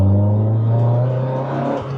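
Lotus Elise S2 engine accelerating from inside the car, a loud steady drone with a strong low tone that builds slightly before easing off near the end.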